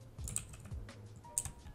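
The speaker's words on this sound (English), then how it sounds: "we just want to hit M on our keyboard" Quiet keystrokes on a computer keyboard tap out in an irregular patter at close range, with a low hum running underneath.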